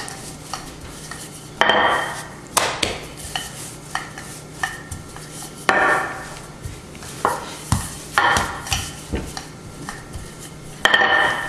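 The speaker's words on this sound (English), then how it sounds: "Add a little bit of flour so that it doesn't stick too much. We roll it flat." Dough being rolled flat with a rolling pin on a floured surface for homemade cinnamon buns, giving repeated knocks and rolling rumbles in an irregular rhythm, close and fairly loud, with no talking.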